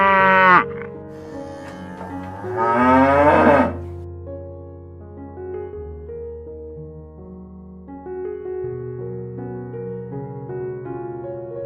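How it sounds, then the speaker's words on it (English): A cow moos in two loud, drawn-out calls near the start, then falls silent while a soft, steady musical backing carries on. "Cow."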